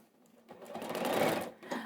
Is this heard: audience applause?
no